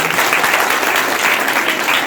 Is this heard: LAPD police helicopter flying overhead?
no